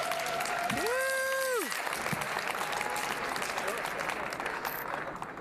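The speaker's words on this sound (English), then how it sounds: "Everybody give Skip Valet a big round of applause." An audience at an evening event breaks into a big round of applause, dense steady clapping that fills the room throughout, with a brief sliding tonal sound near the start.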